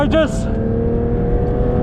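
A Porsche 992 GT3 RS on a race track holds a loud, steady engine drone from inside the car, with a quick rising sweep at the very start.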